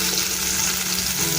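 Kofta meatballs frying in hot oil, a steady dense sizzle that holds at an even loudness throughout with no pauses, close up and unbroken, with nobody talking over it.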